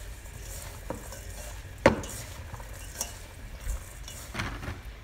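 Sliced banana heart is tossed with salt in a bowl, producing quiet, close rustling and soft wet stirring with one sharp clink against the bowl partway through.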